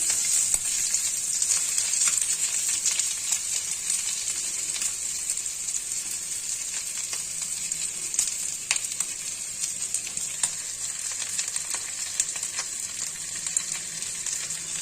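Onions sizzling in hot oil for Bengali tengra fish bharta, a loud, steady, close frying hiss with faint stirring ticks throughout and no talking.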